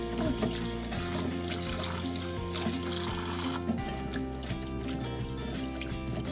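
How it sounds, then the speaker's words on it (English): Running tap water streams steadily into a sink as oxtail meat is rinsed by gloved hands, a continuous close splashing flow with small clatters and no talk. "after washing the meat with these gloves, I have to change them and throw them away"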